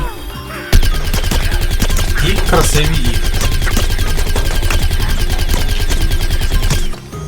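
Rapid, continuous gunfire from the video game Plants vs. Zombies: Garden Warfare rattles throughout, with someone talking over it and music underneath.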